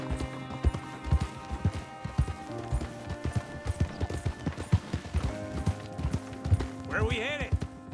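Horse hooves beat in a steady rapid clip-clop rhythm in the Red Dead Redemption video game, close and continuous, with game music and voices underneath.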